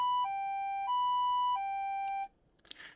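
An ambulance siren in a close, loud two-tone hi-lo pattern, alternating about three times before cutting off abruptly, followed by a brief faint rustle.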